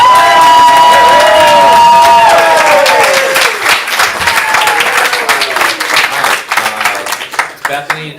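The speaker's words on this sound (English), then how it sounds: "I want you to cheer wildly for our captains" A comedy improv audience cheers wildly for the team captains, with loud whoops, shouts and applause that swell at first and then gradually thin out.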